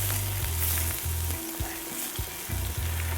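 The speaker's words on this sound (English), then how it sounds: "Lower the heat. Onions. Onions till translucent," Onions fry over lowered heat in a pan, a steady close sizzle broken by a few scraping stirs, with a low hum running underneath.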